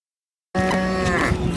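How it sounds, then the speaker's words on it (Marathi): A large bull at the Sangola cattle market lets out a single loud, close, sustained moo after a moment of silence. "मोठ्या मापाचा बैल आहे."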